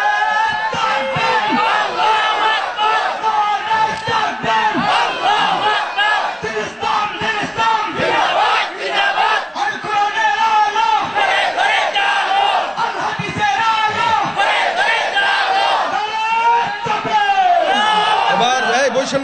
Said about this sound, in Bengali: আল্লাহু আকবার ধ্বনি দিয়া একসঙ্গে সবাই দাঁড়াইবেন